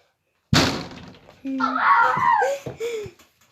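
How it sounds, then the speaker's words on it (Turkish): A single loud thump rings out as a head strikes a household cupboard, followed by pained vocal groans and laughter-like cries. "İşte kafa atacağım dolaba."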